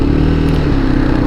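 A motorcycle engine running steadily while riding uphill in Armenia, a loud, close, continuous low drone with a firm hum and slight clatter, no break in the sound.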